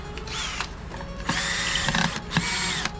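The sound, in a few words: unscrewing a Klipsch speaker system amplifier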